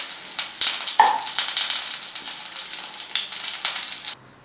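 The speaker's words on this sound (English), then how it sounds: "You need to pay attention that the whole paneer cube is fried well on all sides" Paneer cubes frying in hot oil, a crackling, spitting sizzle with bursts and pops up close, ending abruptly near the finish.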